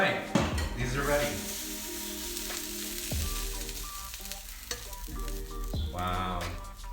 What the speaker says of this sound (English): So we're gonna put our flowers in. And we're gonna let them fry a bit longer